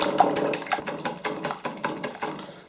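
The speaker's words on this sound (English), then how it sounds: "I'm going to use my little sort of hand whisk here, just to try and make it a bit frothy really" Eggs being whisked with a small hand whisk until frothy, a quick steady run of light metallic ticks against a bowl, close and fairly quiet.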